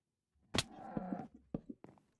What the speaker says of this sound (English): Did they change the cow sounds?